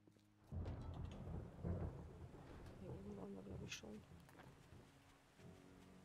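Thunder rumbles and rain patters in a stormy scene in the video game 7 Days to Die, with low rolling booms over steady rainfall, moderately loud, and a little background noise beneath.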